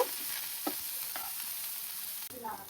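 Potato filling for aloo tacos stirred in a hot frying pan, a steady sizzle under a few faint scraping strokes of the spoon, with no talk.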